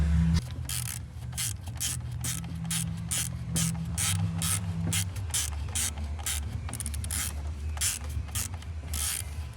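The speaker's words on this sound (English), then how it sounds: "This is a nice Craftsman ratchet screwdriver. Now, I'm tightening this up" A Craftsman ratchet screwdriver tightening a screw on a wobbly chair, a rapid series of close, sharp ratcheting clicks in quick bursts over a steady background hum, with no talking.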